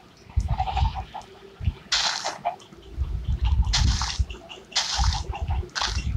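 Goats bleating on a farm with grassy pasture, a series of loud, close bleats in irregular bursts over rustling and low background noise.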